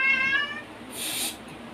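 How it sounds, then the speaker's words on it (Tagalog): A cat meows indoors with a clear harmonic cry that rises and fades, close and moderately loud, followed by a brief hissy burst of noise. "Nag-iingay na naman yung pusa"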